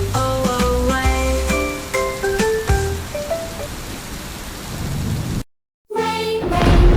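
Steady rain with a rumble of thunder sounds beneath a bright sung nursery rhyme melody with musical notes on top, then cuts to silence briefly before the rain and thunder swell back in loudly.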